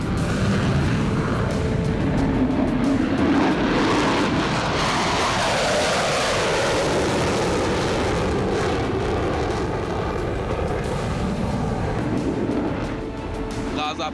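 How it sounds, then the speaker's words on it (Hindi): Israeli fighter jets roar over Gaza in a dense, continuous, loud rumble that swells and slowly shifts in pitch, filling the whole stretch without pause. "अब भी इजराइल के लड़ाकू विमान गरज रहे हैं।"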